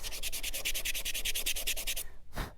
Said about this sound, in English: we just sand like this if you want to make it nice and smooth